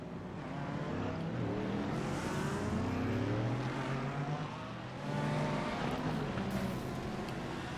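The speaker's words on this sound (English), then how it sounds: "We've got all those cars coming out on track currently." GT3 race cars at Laguna Seca in iRacing leave the pit lane onto the track, several engines droning and rising in pitch together at a steady, moderately loud level with no talk.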